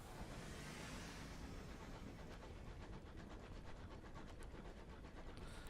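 A train rumbles along in the Sunless Skies video game as a dense, steady roar with a faint rhythmic clatter layered through a thick, eerie ambient wash.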